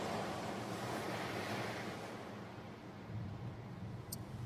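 Sea waves and surf wash in a continuous roar by the shore while driving in the game Far From Noise, with wind noise and a dense, steady rush that eases slightly midway.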